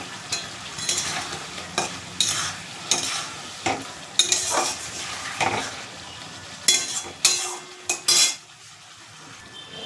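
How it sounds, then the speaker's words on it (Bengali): An egg fries in a pan with turmeric as a metal spoon stirs and scrapes, sharp clinks and scrapes coming in irregular bursts over a soft continuous sizzle, close and fairly loud. "এবার ডিমটা দিয়ে দেবো, ডিমটা দিয়ে দিচ্ছি ভাজা"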